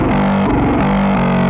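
A soloed band of removed signal from a distorted, fully MIDI-programmed metal bass plays a buzzy, gritty riff with shifting sustained notes, steady and continuous throughout with no voices.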